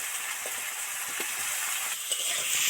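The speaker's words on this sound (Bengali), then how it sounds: "ফুলকপি দিয়ে দু চার মিনিট আলাদাভাবে ভাজতে থাকবো পেঁয়াজের সাথে" Cauliflower pieces fry with onions in a pan, giving a continuous, moderately quiet sizzle with faint stirring scrapes, no voices present.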